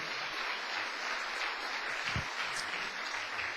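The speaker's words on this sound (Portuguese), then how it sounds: "pode dar uma outra salva de palmas para o Senhor" A church congregation gives a round of applause, a soft, even wash of clapping that stays steady and somewhat distant throughout.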